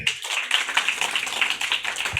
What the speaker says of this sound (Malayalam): ഒരു നന്നായിട്ട് ക്ലാപ്പ് ചെയ്തേ